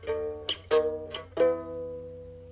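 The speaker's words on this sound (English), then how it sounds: "the group produced a cigar box guitar" A twangy three-string cigar box guitar with a mahogany-stained body plays a few plucked notes, each sharp attack ringing and decaying, close and fairly quiet.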